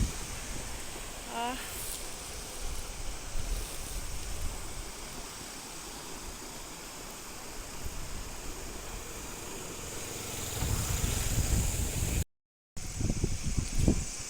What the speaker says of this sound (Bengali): হাওয়ার শব্দ আর জলের শব্দ বুঝে যাচ্ছে হয়তো কোথায় আছি আমরা